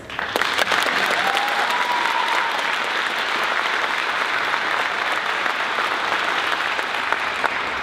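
Sustained applause from a high school graduation audience, a dense, even wash of clapping that stays loud and steady throughout with a brief faint whistle near the start.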